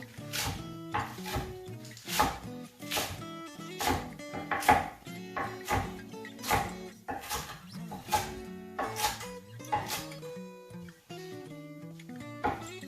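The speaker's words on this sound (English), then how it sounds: "We will start chopping up this chard." Rapid, uneven knife chops through rainbow chard on a cutting board, sharp repeated thuds in quick bursts, close and clear, over faint background music.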